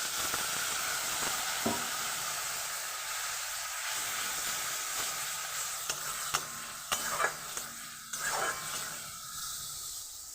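Ground chilli, turmeric and cumin with ginger fry in a pan for a Bengali flat-bean curry after a little water is added. A loud, continuous hiss and sizzle runs throughout, with a few sharp scrapes and clacks of stirring near the end.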